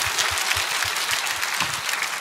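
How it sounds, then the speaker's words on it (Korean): A church congregation breaks into applause during a sermon, dense continuous clapping with a faint rhythmic low thumping beneath it, lasting the whole short stretch. "So let us give a round of applause to the Lord."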